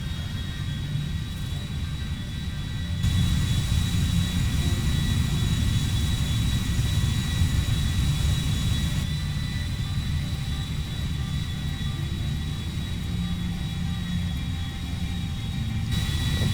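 Boeing 777-300ER jet engines in the GTA V video game, a loud continuous roar with a steady high whine running throughout, shifting in level as the view changes, with no talking.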